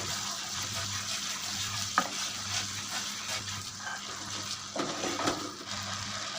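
Paneer bhurji is stirred and cooked down in a pan over medium-low heat, giving a soft continuous sizzle and wet bubbling with a few sharp spoon scrapes and knocks against the pan.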